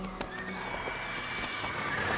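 Roach, a horse in The Witcher 3, lets out a loud whinny that is heard clearly, with hoof clip-clops and other ambient game sound underneath.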